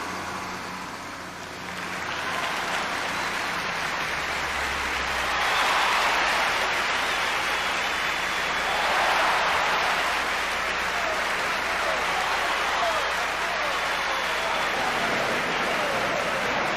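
Broad, steady applause from a sizable audience, swelling after the first couple of seconds and holding for about fifteen seconds with a couple of louder peaks, no voices standing out.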